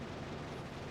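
Grenade explosions in the video game Factorio Space Age land as a short burst of dense, rumbling booms that blur together, loud throughout, with no talk.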